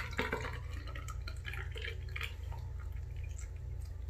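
Liquid clog remover pours steadily into a drain, a continuous wet trickle with gurgling and dripping over a low rumble, fairly close.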